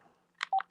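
Telephone keypad dialing tones, a quick run of three or four short beeps, quiet and close, with no voices.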